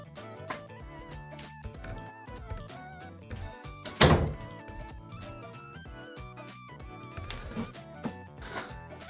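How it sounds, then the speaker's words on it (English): A streamer's door closes, a single dull thunk standing out midway above quieter background tones and clatter. "Let me close my door."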